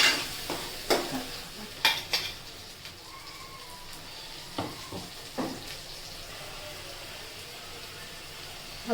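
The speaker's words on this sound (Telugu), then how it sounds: "ఉల్లిగడ్డ ఎంపింది అందులో వేసుకొని మంచిగా ఎర్రగా చేసుకోవాలి." Chopped onions sizzling in oil while a spoon stirs and scrapes the pan for gutti vankaya curry, a soft steady fry broken by several distinct clinks and scrapes, close and fairly quiet.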